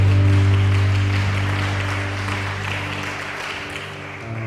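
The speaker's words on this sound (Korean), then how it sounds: "우리에게 참 평안을 주신 주님께 영광의 박수 올려드리겠습니다." A church congregation at Toronto Union Methodist Church applauds in one steady, sustained wash of clapping that fades slightly toward the end, with a low hum running underneath.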